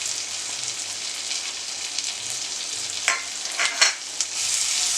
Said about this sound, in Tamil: இது கொஞ்சம் நல்லா ஃப்ரை ஆகட்டும்.